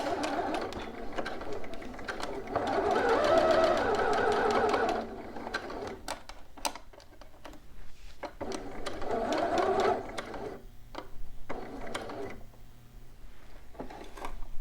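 A domestic sewing machine backstitches and then runs a bodice seam, two sustained bursts of fast, even whirring stitching with quiet gaps of clicks and handling noises between them, close and moderately loud.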